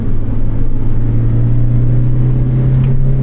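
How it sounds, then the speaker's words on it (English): Engine of a Toyota Celica GT-S fitted with a polyurethane front motor mount insert, heard from inside while driving: a steady low droning hum that stays constant and fairly loud throughout. "I feel like I can hear more engine sounds too."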